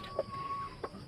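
Pet chickens in a rural backyard cluck softly while being fed, two short low clucks close by over faint background hum.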